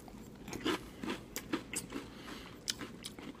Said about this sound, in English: Still eating, pardon me, as I finish up this cereal.